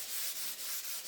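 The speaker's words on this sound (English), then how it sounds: "I've got some 400 grit and I'm just going to smooth it off" A painted drawer is hand sanded with 400 grit sandpaper, giving soft, quiet rhythmic rubbing strokes, about five back-and-forth passes in quick succession.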